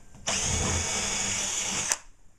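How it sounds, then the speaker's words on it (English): Power drill boring a hole in drywall, a loud steady high whine for about two seconds that cuts off sharply, heard close and alone. "So I'm going to drill my hole to make sure I'm not going to hit that stud."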